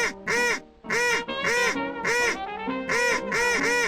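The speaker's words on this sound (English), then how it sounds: "Pandora Mandelbrot is 11 and would like to hear 11 birthday quacks from Jemima the birthday duck." A duck quacks in a rapid series of about ten loud, nasal honking calls, close and clear with short gaps, alone without talk.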